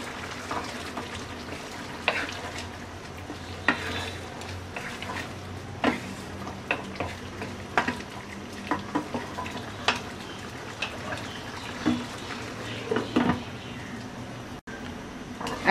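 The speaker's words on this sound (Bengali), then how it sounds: "ধনেপাতা কুচি দিয়ে আরো 1 মিনিট রান্না করে নামিয়ে নেব।" Shrimp curry with jackfruit seeds and stems cooking in a pan, a steady low sizzle broken by frequent scraping and stirring clicks of a utensil against the pan, fairly close and continuous throughout.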